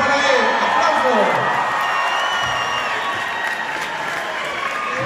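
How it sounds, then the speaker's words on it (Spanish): A concert crowd applauds and cheers, with thick continuous clapping, scattered whoops and shouts, and a stage voice over the noise at a live show in New York City. "¡Aplausos para él! ¡Aplausos!"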